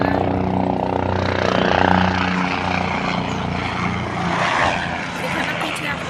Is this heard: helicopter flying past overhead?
yes